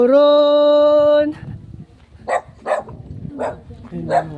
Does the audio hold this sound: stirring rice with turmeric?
no